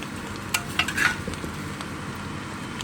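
Shredded cabbage foogath with salt is stirred in a pan on the stove, giving a few scraping strokes of a spoon against metal over a soft, low sizzle, close and fairly quiet.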